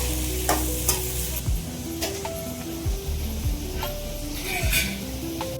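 Fish kulambu ingredients sautéing in a pan, a steady sizzle and frying hiss with repeated stirring scrapes and clicks, close and moderately loud throughout with no talk.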